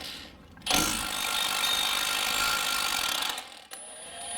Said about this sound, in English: the other end is a 18mm on my 3/8 impact